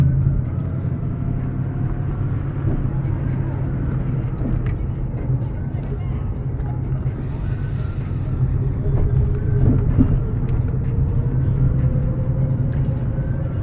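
A 2011 Ford Mustang GT driving on the road, its engine drone and road rumble steady and loud from inside the cabin for the whole stretch.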